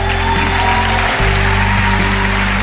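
Loud, steady applause from a live theater audience, sustained throughout with no pauses and a brief swell partway through.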